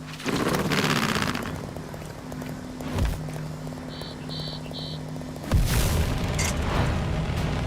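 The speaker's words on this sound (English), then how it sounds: "just to show you that this missile actually works, let me just show you guys" Missile launch and explosion in the video game Trailmakers, fired from a semi truck's huge trailer: a sustained whooshing roar, a sharp low thump near three seconds, three short beeps, then a loud booming blast near five and a half seconds that fades into rumble.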